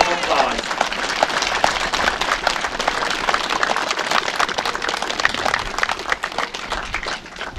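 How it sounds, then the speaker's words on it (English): Loud, sustained applause from an audience at an outdoor commemoration in Kilmichael, dense clapping holding steady throughout before easing slightly at the end. "Now I ask you for your approval of that vote of thanks with a rousing round of applause."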